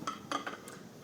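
A few light clinks and clatters of dishes and cutlery being handled and put away in a home kitchen after cooking, quiet and close, with no talking.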